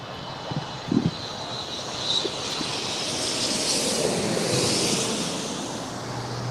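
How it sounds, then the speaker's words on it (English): An Air China Boeing 777-300ER jet arriving at LAX after a long flight from Beijing makes a broad, steady engine roar that swells gradually. A few faint knocks sound early on, and there is no talk. "We have Air China Flight 987 coming in from Beijing on a Boeing 777-300ER."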